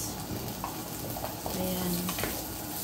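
Carrots being stir-fried in a pan, a constant loud sizzle with light scraping clicks of stirring and a brief tonal squeak in the middle.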